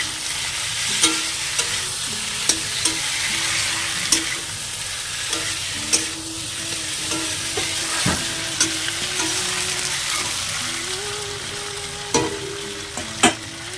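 Potato and pointed gourd curry fries steadily in a pan with a continuous sizzle, punctuated by repeated clinks and scrapes of a spatula stirring against the metal at irregular intervals, close and without talk.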